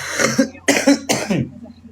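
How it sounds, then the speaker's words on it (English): Three harsh, wet coughs in quick succession, close and loud, each burst separated by a brief pause. "I've been coughing"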